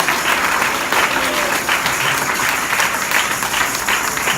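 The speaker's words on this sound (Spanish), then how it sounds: "Ese aplauso más fuerte para el Señor Jesús." Sustained applause from a church congregation, steady and dense clapping filling the room at close range without a break.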